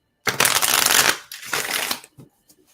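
Tarot cards being shuffled by hand in two close bursts of rapid riffling and flicking, the first about a second long and the second shorter, followed by a few faint card taps, with no voice.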